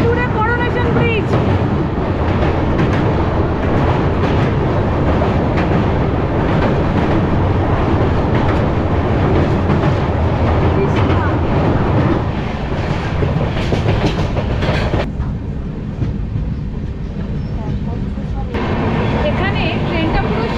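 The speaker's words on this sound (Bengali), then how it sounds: "এখানে ট্রেনটা পুরো সাপের মতন এঁকে বেঁকে যাচ্ছে।" The Kanchan Kanya Express runs along a winding track through forest and tea gardens, its loud, continuous rumble and rhythmic clickety-clack of wheels heard close up from on board throughout.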